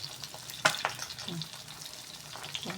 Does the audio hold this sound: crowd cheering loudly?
no